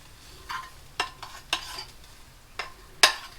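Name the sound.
rice frying and being stirred in a pan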